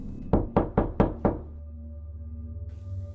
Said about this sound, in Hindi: कुछ देर बाद हमारे रूम का दरवाज़ा नॉक हुआ।